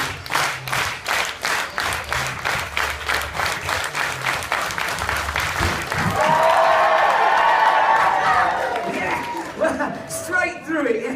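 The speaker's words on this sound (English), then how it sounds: "we're going to start a hand clap that goes like this" A live audience at a Brainiac show at Thorpe Park claps in a steady, rhythmic beat that swells into loud cheering and a burst of applause, with crowd noise throughout.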